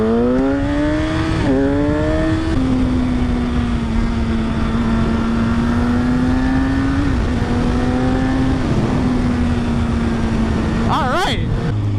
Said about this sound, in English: It sounds pretty damn good though. That's one thing I will give Suzuki about their GSX-R's.